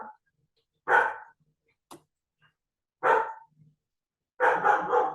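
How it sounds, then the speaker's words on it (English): Dogs bark loudly indoors in a few separate bursts: a short yelp first, then three strong barking outbursts, the last one longest, with quiet gaps between them. "sorry if my dogs are too loud"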